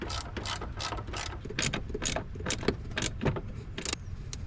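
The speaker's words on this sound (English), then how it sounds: "now I'm going to cinch them down with these 12 millimeter bolts that came off the clutch master" A hand ratchet tightens 12 mm bolts on the clutch pedal bracket of a second-generation 4Runner, producing short bursts of close, crisp clicking in an irregular rhythm with brief pauses between strokes.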